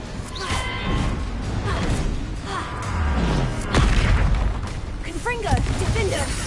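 A Confringo spell from the Hogwarts Legacy video game goes off as a booming, crackling blast amid ongoing combat clatter, with a voice calling out spells over the noise.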